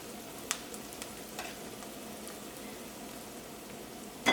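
Prawn theeyal masala sizzling and frying in a pan over the stove, with soft steady crackle and a few sharp scrapes and taps as it is stirred, close and without voices.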